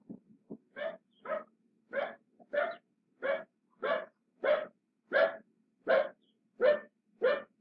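A dog barks repeatedly at an even pace, about a dozen sharp barks, fairly close and alone with no other sounds.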